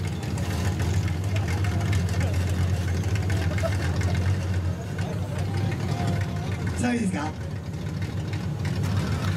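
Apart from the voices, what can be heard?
rotary engine car idling at exhaust sound contest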